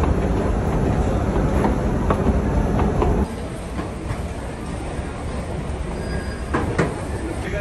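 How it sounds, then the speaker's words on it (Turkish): Metro train running through a station on the way to a Fenerbahçe match in Istanbul, with loud continuous rumble and wheel noise, some squeal, dropping slightly in level partway through as it slows. "Bizim trenimiz 2 dakika sonra burada."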